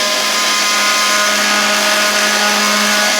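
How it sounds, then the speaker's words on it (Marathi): A kitchen mixer grinder runs steadily at home, loud and continuous, whirring as it grinds ingredients into a powder for a homemade mouth freshener, with no talking over it. "आता लावलेला आहे आपण मिक्सर"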